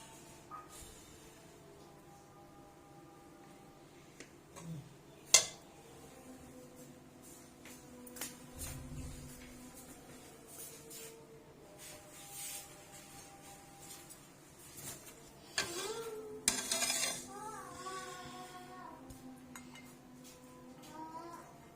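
Fish biryani is served from the pot onto a dish with faint, scattered clinks and scrapes of a spoon against metal and a plate. The scene is quiet, with a few sharper knocks.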